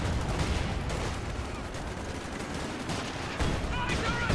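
Bazooka blasts and gunfire crackle through a Company of Heroes 2 two-versus-two match, a dense, continuous barrage of shots and bursts without pause.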